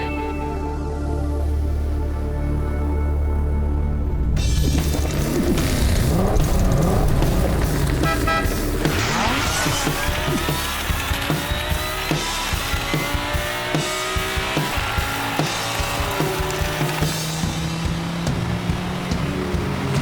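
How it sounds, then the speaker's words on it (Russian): Toy cars race in a comedy short film: a quiet start gives way to loud, continuous engine whine and revving with rising pitch sweeps and rhythmic ticks, close and busy, with no talking. "Смертельные гонки на игрушечных машинках."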